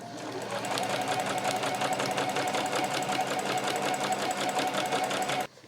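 A domestic sewing machine runs a long continuous seam without backstitching while making a tucked pouch, a steady rapid mechanical whir with a fast repeating stitch rhythm, close and loud, stopping abruptly at the end.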